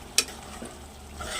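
Stuffed eggplant in yogurt masala fries in a pan while being stirred, with one sharp utensil scrape near the start over a soft, steady sizzle.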